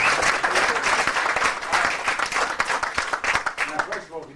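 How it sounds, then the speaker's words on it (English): An audience at an Ulster Society of Magicians show gives a round of applause for magician Billy McComb, with dense, sustained clapping that thins toward the end and voices mixed underneath. "So have you give Billy a big round of applause"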